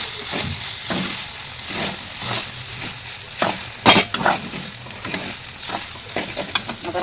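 Tapioca pearls (sabudana) for khichdi fry in a pan with a steady sizzle, broken by repeated scraping stirs of a spoon against the metal and a louder clatter near the middle; no one speaks.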